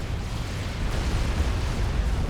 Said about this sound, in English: Just explosions happening all the time.